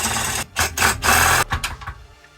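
Power drill boring 7.5 mm holes through a sheet metal car radiator support, loud close whining bursts separated by short pauses, with a final fading burst.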